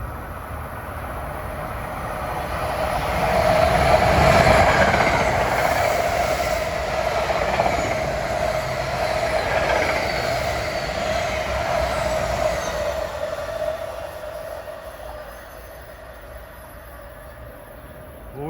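Train 533 rolls through New Brunswick, New Jersey while slowing, a sustained heavy rumble with a steady tonal whine and wheel noise, loud at first and gradually easing off toward the end.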